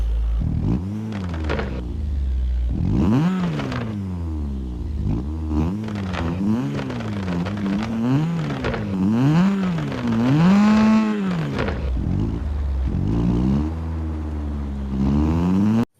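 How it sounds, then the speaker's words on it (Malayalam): A car engine revs repeatedly as the accelerator is pressed and released. The swells rise and fall in pitch over a steady idle, loud and close, with no talking. "അതാണ് നമ്മുടെ വണ്ടി സൗണ്ട്"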